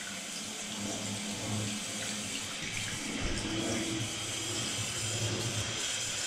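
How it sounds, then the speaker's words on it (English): Tap water runs steadily into a sink while a just-cleared blockage is checked for leaks, a continuous splashing hiss that stays close and constant throughout, with no one talking. "Now we're gonna check for any leaks. So let the water go."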